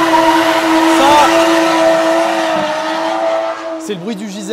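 Toyota JZ-engine drift car in Japan, its engine droning loudly and steadily with tire noise, then the revs wavering up and down near the end.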